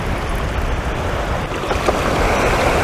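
Waves lapping and washing against the bank at an outdoor match fishing venue during a feeder fishing event, a steady broadband wash with wind noise throughout, close and fairly loud, no talking.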